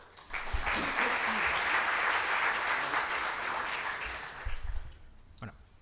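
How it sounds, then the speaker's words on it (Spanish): An audience applauds a guest speaker at a telework event in Galicia, and the sustained, fairly loud clapping fades out near the end, with a brief voice at the close. "por favor, un aplauso para don José María Barreiro Díaz"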